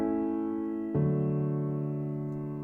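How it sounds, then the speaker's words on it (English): A major-key IV–V–I chord progression in basic form, played as sustained chords, one ringing chord shifting to the next with a clear attack near the one-second mark, quiet and unaccompanied. "This progression uses a major scale and it uses the 4 chord, the 5, and it goes down to the 1."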